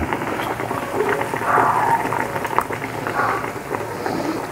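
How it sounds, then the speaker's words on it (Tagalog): Pork liempo simmers in boiling broth seasoned with pepper and salt, a steady close bubbling and gurgling that rises and falls across the whole stretch with no voices. "hintayin lang po natin mawala po yung sabaw ng ating nilulutong pork liempo"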